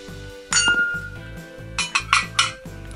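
Ceramic plates from the Blooming Girl series clink and knock together, several bright ringing contacts in a cluster toward the end, close up over a steady low hum.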